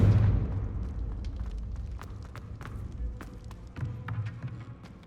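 A Confringo blasting spell explodes with a loud low boom that decays into rumbling, followed by scattered thuds and taps of falling debris.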